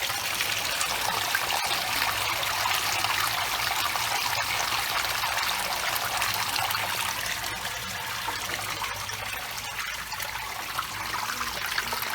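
Water gushes steadily out of a pool cartridge filter as it is flushed and drained, carrying debris with it; a continuous, fairly close splashing stream with no break and no talk over it.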